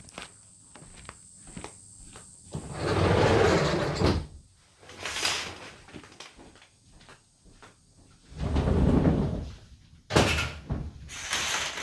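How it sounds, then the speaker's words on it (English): A door is pushed shut indoors with a few light footsteps and handling knocks around it, then two broad thuds and a brief sliding clatter, all close by in a quiet room. "I'll just close the door"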